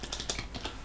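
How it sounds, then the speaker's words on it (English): Fingers type quickly on a computer keyboard, giving a close run of soft, irregular key clicks and taps with no talking. "So quick in typing."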